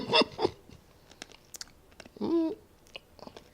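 A crunchy, garlic-flavoured snack being chewed up close, with a couple of short crisp crunching bursts near the start and another muffled stretch of chewing a little later, separated by quiet pauses.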